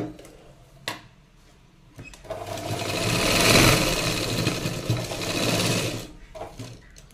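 A sewing machine stitches a padded one-tuck blouse, its motor whirring up into a fast, loud, continuous mechanical chatter for several seconds before slowing, with a few taps and handling noises around it.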